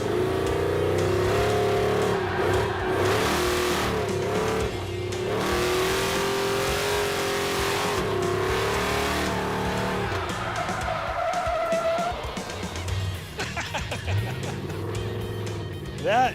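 A Roadkill Garage muscle truck, overpowered, undertired and underbraked, roars hard around a cone course. The engine revs and the tires squeal loudly, the sound dropping away near the end as voices are heard.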